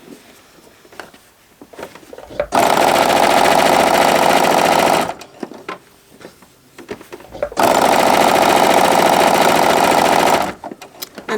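A sewing machine stitches a quilt in two long steady runs, each a few seconds of fast, loud, even whirring and needle clatter, separated by a quiet pause with faint handling sounds.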